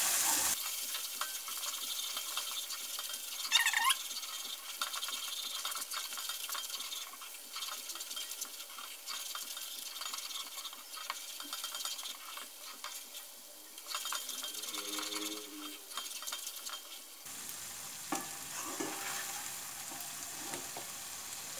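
Whole-spice masala paste frying in a pan for dum aloo, a quiet, steady sizzle and hiss with occasional scraping stirs and a brief metallic clink, close by with no voices.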